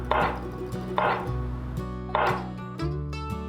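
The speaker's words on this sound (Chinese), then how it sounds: "把黄甜椒切成条状。" A knife cuts a yellow bell pepper into strips on a board in four firm, evenly spaced chops, each one close and crisp, with a low tonal hum running underneath.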